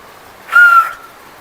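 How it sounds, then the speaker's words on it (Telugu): A single short whistle, played as a dare in a late-night truth-or-dare game, that sounds faint and weak, lasting under half a second in otherwise quiet surroundings. "విజిల్ గట్టిగా రాలేదు."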